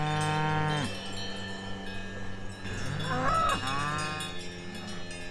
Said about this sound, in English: We have a cow parade